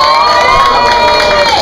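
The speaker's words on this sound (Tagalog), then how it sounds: "Mga tao, pansinin natin ay pumapalakpak." A rap battle crowd cheers and shouts loudly and continuously, with dense applause mixed into the roar for the full short stretch.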